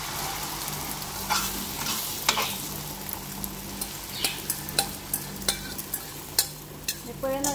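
Food goes into a hot pan for a quick breakfast and sizzles steadily and loudly up close, with a spatula scraping and tapping in irregular knocks throughout the frying.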